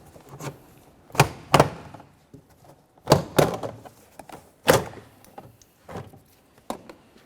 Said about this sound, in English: You're going to hear some popping because there's a whole bunch of push pins